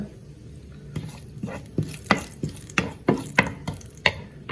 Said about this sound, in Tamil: ஒரு அரை கரண்டி நச்சீரகத்தையும் போட்டுருவோம் கடுகோடு சேர்ந்து பொரியட்டும் சரியா இந்த மாதிரி பொரிஞ்சோன்